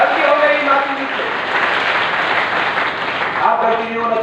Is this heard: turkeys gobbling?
no